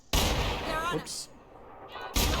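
A sharp gunshot headshot in The Outer Worlds lands as a loud, abrupt crack at the start, with another hard report near the end and a bit of game noise in between.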